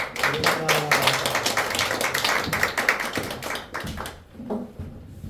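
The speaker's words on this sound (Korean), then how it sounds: "다시 한번 환영의 박수로" A church congregation gives dense, steady applause to welcome the president, many hands clapping close by before the sound thins and fades out near the end.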